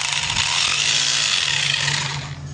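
A new hammer drill running continuously at close range, a loud, steady buzzing whir that holds for a couple of seconds and then begins to fade slightly.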